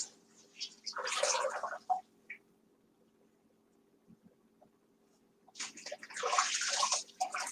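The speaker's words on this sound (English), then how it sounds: "I'm letting the water out of here" Water draining out of a bathtub in two rushing, splashing bursts, loud and close, separated by a quiet stretch with only faint room hum.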